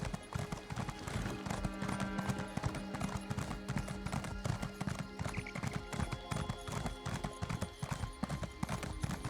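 Steady clip-clop of horse hooves from a mount being ridden in The Elder Scrolls Online, a continuous close rhythmic trot with occasional whinnying, heard without talk.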